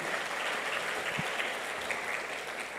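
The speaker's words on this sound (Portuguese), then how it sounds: "Vamos aplaudir o Senhor nessa noite" Church congregation applauding during an evening worship service, a steady, even wash of many hands clapping at moderate level, with no voices standing out.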